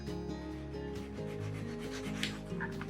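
Steady rasping rub of a nail file or sandpaper against wooden tabs, close up, continuing in short strokes over a low hum of background music.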